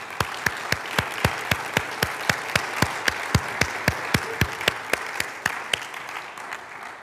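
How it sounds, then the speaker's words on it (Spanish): A church congregation claps together in a steady, even beat, roughly four sharp claps per second, loud and close for about six seconds before the rhythm breaks off into a scattered patter. "Un aplauso bien fuerte a nuestro Dios"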